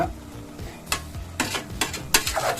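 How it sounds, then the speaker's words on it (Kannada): Spicy masala paste cooking in a pan for green pea rice, with soft sizzling and several sharp clinks and scrapes of a spoon stirring against the pan, close and fairly quiet. "ನೋಡ್ತಾ ಇರ್ಬೋದು, ಸುತ್ತ ಬೇಯ್ತಾ ಇದೆ ಖಾರ"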